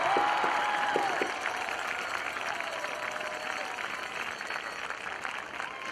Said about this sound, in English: Let's give them a tremendous round of applause.